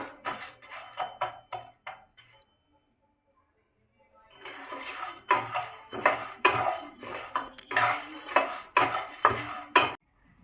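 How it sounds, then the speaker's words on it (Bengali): Lentils dry-frying in a hot wok for pachon, with a metal utensil clinking and scraping against the pan in quick bursts, a brief quiet pause, then busier stirring. "পাচনে ডাল দেওয়ার জন্য ডালটা ভেজে নিচ্ছি।"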